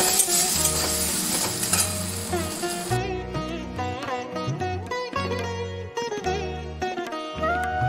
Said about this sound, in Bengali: এদিকে আমার বেগুনটাও ভাজা হয়ে গেল